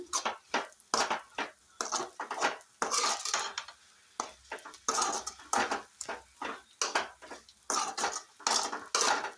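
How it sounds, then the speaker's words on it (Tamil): Spinach stir-fry for keerai poriyal being mixed in a pan with a metal spoon, heard as close, irregular scraping and clattering strokes in quick bursts, with no talk over it. "இது நல்லா மிக்ஸ் பண்ணிக்கோங்க"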